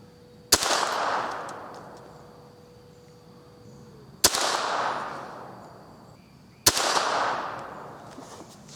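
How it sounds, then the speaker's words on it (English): Three sharp rifle shots fired outdoors over open sights at a target 20 yards away, spaced a few seconds apart, each a loud close crack followed by a fading echo tail. "that's 10 rounds there at 20 yards"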